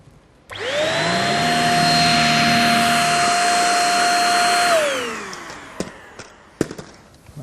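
A cordless Dyson V6 vacuum cleaner runs on a hard floor picking up fine dust, a loud steady whine that starts abruptly, holds for about four seconds, then winds down, followed by a few sharp knocks.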